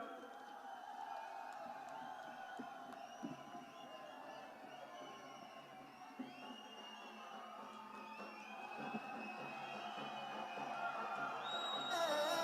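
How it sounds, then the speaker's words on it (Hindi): A large outdoor political rally crowd in Kangra, Himachal Pradesh, clapping and cheering while awaiting Priyanka Gandhi, a continuous distant roar of applause and whoops that swells toward the end. "और आपकी ताली बजती रहनी चाहिए जब तक कि प्रियंका जी नहीं आ जाती।"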